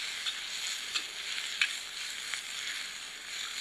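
Bamboo shoots with soy sauce and stock sizzling in a wok for a home-style fish dish, a steady close hiss of frying with faint clicks of stirring, no voices.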